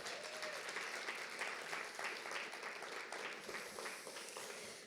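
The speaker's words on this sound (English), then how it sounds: "How about a big round of applause for all of our speakers today?" Steady applause from a large audience fills the whole stretch, dense clapping that stays loud and only eases slightly toward the end.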